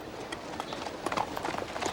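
A horse's hooves clip-clop in a quick, steady rhythm at moderate distance, fairly faint against a background hiss.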